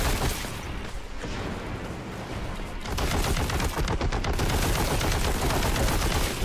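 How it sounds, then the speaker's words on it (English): Heavy bolter firing in a Warhammer 40K video game, a dense, continuous roar of rapid gunfire that grows louder and heavier midway through, with no talking. "I really want to be making use of the heavy bolter"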